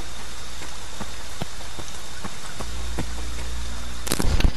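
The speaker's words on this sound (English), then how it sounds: "It's raining." Rain falls in a video game as an even, continuous wash of patter, broken by scattered sharp ticks and a short burst of louder crackling near the end.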